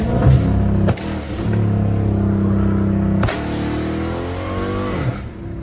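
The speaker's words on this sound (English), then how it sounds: "I'm about to give y'all some POV footage of the burble." A Chrysler with a flame tune burbles and pops through its exhaust, heard up close from the driver's seat, with revs rising and dropping and sharp crackles on each lift-off.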